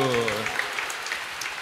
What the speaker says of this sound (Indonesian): Amin, tepuk tangan dulu.